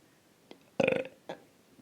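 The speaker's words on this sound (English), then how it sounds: "sorry for burping a lot" A single loud, close burp from a man, preceded by a small throat click and followed by a short grunt, standing out alone against a quiet room.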